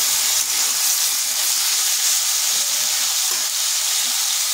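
Potatoes and eggplant frying in oil with a pinch of turmeric, a loud continuous sizzle and hiss up close, with faint scraping of stirring underneath and no talking.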